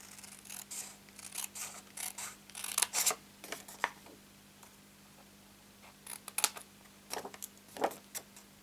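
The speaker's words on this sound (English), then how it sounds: "Now I'm cutting just on the top edge of the score lines, so most of the score is being cut away" Scissors cut through cardstock along score lines, a series of close, crisp snips and slicing crunches in irregular clusters over a faint steady hum, with no talking.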